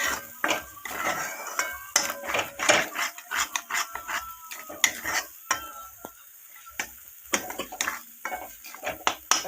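Paneer masala is stirred in a metal pan with a spoon, giving irregular close scraping and clinking strokes against the pan with faint sizzling between them.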